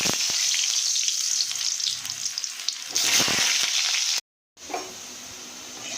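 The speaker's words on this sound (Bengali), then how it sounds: "এর আগে আলুগুলোকে ভেজে নেব।" Potatoes fry in hot oil with a loud, dense sizzle and crackle close by, which drops out for a moment near the end and then returns as a softer hiss; no talking.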